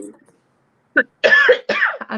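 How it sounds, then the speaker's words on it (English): A short cough, a pause, then a couple of rougher coughs or throat-clearing bursts, close and fairly loud. "Coughing."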